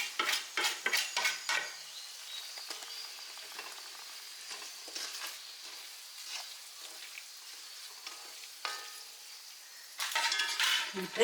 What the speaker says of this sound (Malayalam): ആ നല്ല എണ്ണയിലേക്ക് ചൂടുള്ള എണ്ണയിലേക്ക് നല്ലപോലെ നമ്മൾ മിക്സ് ചെയ്ത് കൊടുക്കും